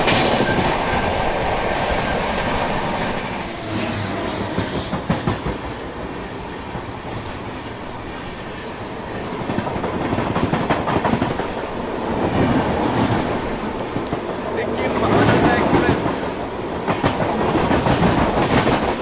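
Two trains passing each other on a double track: a loud, continuous rumble with rhythmic wheel clatter and a high squeal, swelling and fading in waves as the carriages rush by close up.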